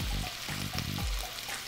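Three strips of bacon frying in a pan, a steady close sizzle with a few soft stirring or shifting noises and no voices.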